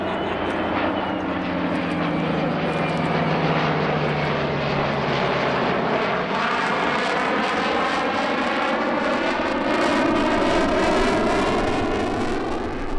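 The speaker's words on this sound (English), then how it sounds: "one of the most memorable being this F-35, AD-1 and P-51 sunset performance at AirVenture" An F-35 jet, an AD-1 Skyraider and a P-51 Mustang fly a sunset heritage formation at the AirVenture airshow, a loud continuous engine roar with a sweeping drone that rises and shifts as they pass.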